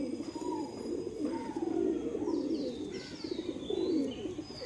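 Pigeons close by give soft, repeated low cooing calls in overlapping bursts, with a few faint higher chirps and whistles in the background.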